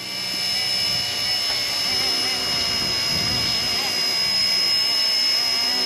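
An RC ERA UH-1 model helicopter lifts off outdoors, its electric motor and rotor giving a steady, high-pitched whine with a faint whistle. The sound holds constant and close throughout, with a little wind noise underneath.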